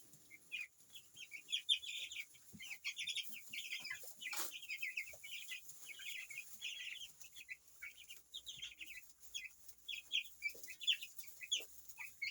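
Many Cobb 500 broiler chickens, 17 days old, clucking and chirping in a continuous busy chorus, fairly close, with no talk.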